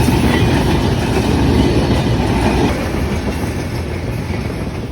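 The Panchagarh Express rumbles past at the Hili border, a loud, close, continuous roar of wheels with rhythmic clickety-clack that eases slightly as the train moves on.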